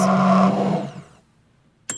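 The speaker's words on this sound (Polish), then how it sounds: "Rozbij jajko do kubka blendera. Dodaj ocet, sos sriracha, ketchup, sól, czarny pieprz, oliwa z oliwek. Zmiksuj sos." A blender whirs loudly as it mixes a sauce of raw egg, vinegar, sriracha, ketchup, salt, black pepper and olive oil, then spins down into quiet, ending with a sharp click.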